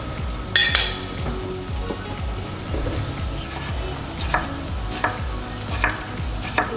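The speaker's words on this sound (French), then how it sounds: "Je retourne mes petits oignons et déjà on voit une première petite coloration." Small onions frying in a pan on an Aga cooker: a continuous close sizzle with repeated scraping turns of a utensil in the pan, plus a few light clinks, and no voices.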